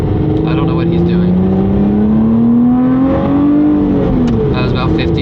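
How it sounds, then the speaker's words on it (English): A Lotus Evora GT's engine revs up, its tone climbing steadily and then falling back, loud and close against a constant road and cabin rumble, with a voice talking faintly underneath. "I'll rev it on him first though, so you guys can hear what it could sound like"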